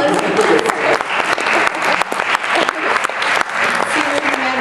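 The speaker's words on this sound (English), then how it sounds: "Round of applause." Audience applause after a leadership presentation for a senior humanities program, a loud, dense crackle of many hands clapping continuously, with a faint voice underneath.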